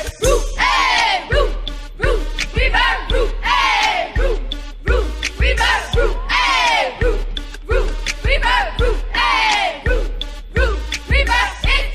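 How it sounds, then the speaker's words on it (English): A crowd chants a traditional school house cheer in loud, rhythmic unison, with repeated shouted syllables punctuated by brief pauses, close and energetic throughout. "Every house has their own traditional cheer."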